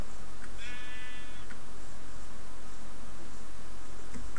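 A single short bleat from a sheep in Minecraft, a brief harmonic call near the start over a steady background hiss, followed by quiet ambience.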